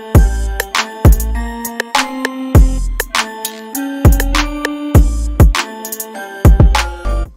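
West Coast hip-hop beat built in FL Studio, with claps, a cowbell every four claps and an open hi-hat at the start of each bar, riding over booming kicks and bass notes; loud, close and steady, no voices.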